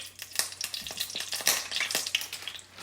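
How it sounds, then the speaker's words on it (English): Oil sizzles and crackles steadily in a hot pan while cooking ackee and saltfish, with scattered sharp pops over a constant hiss, close by and fairly quiet. "You hear that? That means that the oil is getting hot."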